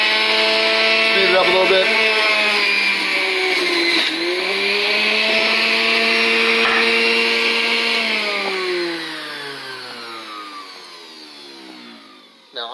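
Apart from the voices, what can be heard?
juicer processing a bunch of celery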